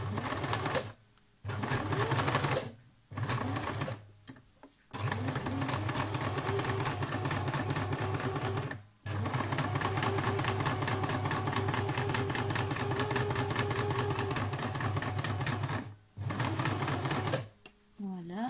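Sewing machine stitching fabric for reusable zero-waste wipes, running in rapid mechanical bursts with brief pauses between runs, up close, while someone talks over it.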